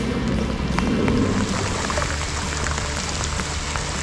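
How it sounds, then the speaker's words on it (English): Steady rain patters on a surface, a dense continuous hiss with scattered droplet ticks throughout, on Maryland's Eastern Shore. "that rain was accompanied by lightning and thunder"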